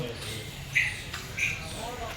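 A squirrel gives two short, sharp squeaky calls a moment apart at Sakkarbaug Zoo in Junagadh, fairly faint over a low background rumble.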